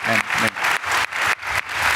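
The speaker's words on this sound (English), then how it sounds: "please join me to applaud our gentleman here" An audience applauds at a James Webb Space Telescope event on international collaboration, a dense burst of clapping in pulsing waves, with a voice briefly heard at the start.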